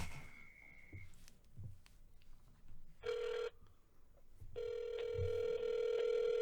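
Telephone ringback from an outgoing speakerphone call: a short tone, quiet rustle, then a half-second ring, a pause and a longer ring that continues to the end, clear and fairly loud.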